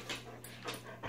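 Excited dogs make short yips and whimpering, panting sounds, close and fairly quiet, in a brief burst with a steady low hum beneath.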